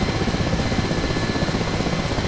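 An Mi-8 helicopter in the DCS flight simulator runs its turbine engines and rotor with a loud, dense, steady roar and a fast rhythmic thrum, close and unbroken, with no voices.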